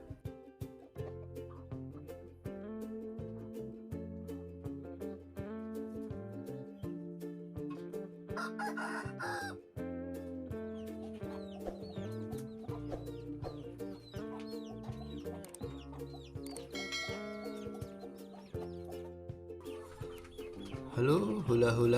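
Laying hens cluck and a rooster crows on an egg-laying chicken farm, with layered calls and squawks throughout, while a voice talks over the birds.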